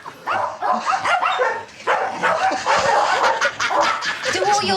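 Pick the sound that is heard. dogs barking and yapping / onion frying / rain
dogs barking and yapping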